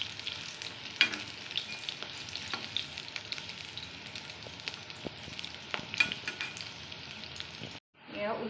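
Small potato bites fry in a pan with a continuous crackling sizzle, broken by soft scrapes and taps as the pieces are flipped. The sound cuts off briefly near the end before resuming.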